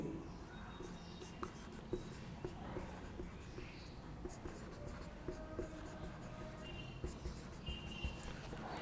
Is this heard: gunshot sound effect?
no